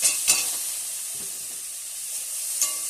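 Potatoes with turmeric and chili powder stirred in a hot pan for singara filling, a soft continuous sizzle with a few sharp scrapes and clinks near the start and end, close up and without voices.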